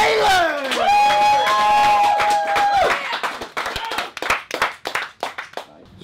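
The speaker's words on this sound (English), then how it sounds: "Let's give a louder welcome to our titan, our colossus, Sled the Bullman Taylor" Audience clapping and cheering welcome a wrestler at a live wrestling event, a dense roar with whistles at first, then thinning into scattered loud claps.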